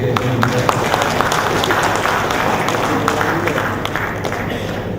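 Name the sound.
audience applause at Teachers' Day ceremony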